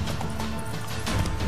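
Horse hooves thud close by with a brief whinny, amid a dense, noisy game soundscape in The Witcher 3: Wild Hunt.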